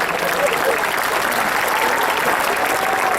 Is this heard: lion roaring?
no